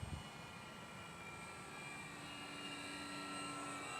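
An FT Master Series Corsair RC model airplane cruises at about half throttle, its electric motor and propeller giving a steady, faint, even drone with a high whine, heard alone without voices.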